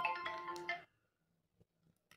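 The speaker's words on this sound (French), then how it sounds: "vous avez entendu que mon téléphone s'est mis à sonner" Mobile phone ringtone chiming loudly in a melodic tonal burst, then cutting off abruptly into near silence with a few faint soft clicks.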